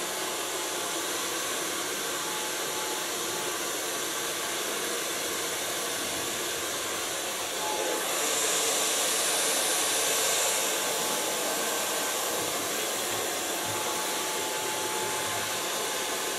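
A hair blow dryer runs continuously with a steady loud whooshing roar, briefly shifting to a brighter hiss partway through.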